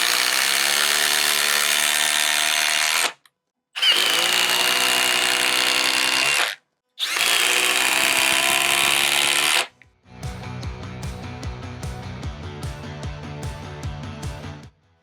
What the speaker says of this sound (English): now we're going to be going on to a 5-inch power lag